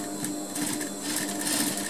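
A sewing machine stitches a zipper fly in a tailoring class, running in a close, continuous rapid whir with a fast rhythmic needle chatter throughout.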